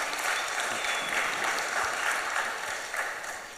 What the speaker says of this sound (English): Let's hear a big round of applause for our panelists today.